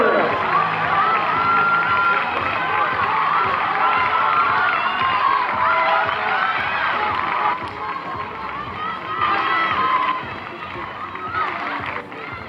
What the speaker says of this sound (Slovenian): potrebuje samo še spodbudo publike